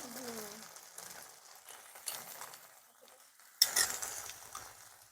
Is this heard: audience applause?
no